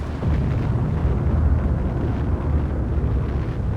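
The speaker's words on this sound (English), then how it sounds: "Tactical nuke incoming!" A tactical nuclear strike detonates in the strategy game Civilization 5, a sustained deep rumbling roar that holds steady and loud for several seconds with no voices over it.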